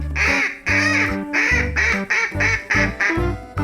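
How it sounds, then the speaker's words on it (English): A duck quacks in a steady run of about eight loud, close, nasal calls, evenly spaced with brief gaps between them and no other sound around them. "D for duck."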